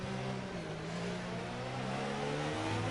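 Formula 1 race car engine in a racing video game, held at high revs down a straight, a steady loud whining drone with rising harmonic tones and no gaps.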